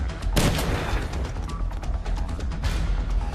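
Gunfire from the floor above in Dead Rising Deluxe Remaster: loud, dense bursts of shots and crackling impacts fill the whole stretch, with a strong volley near the start and another toward the end.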